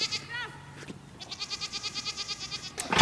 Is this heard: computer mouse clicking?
no